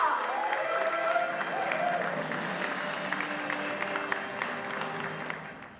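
Audience applause at a volleyball team's send-off ceremony, sustained clapping from a crowd in a large hall, fairly loud at first and slowly tapering, with a faint musical tone underneath.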